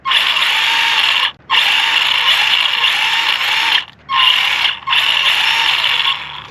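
Whirring electric hum of the steering servo on an HBX 2995 1/12-scale RC car turning its wheels, loud and close, running in long sustained bursts broken by three brief pauses.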